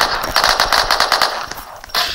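Rapid automatic gunfire from a super mega gun in the Roblox video game, a loud continuous burst of stuttering shots that briefly eases, then resumes sharply near the end.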